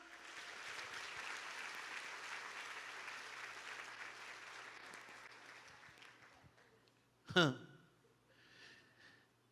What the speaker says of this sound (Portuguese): Então aplauda o Senhor nesta manhã.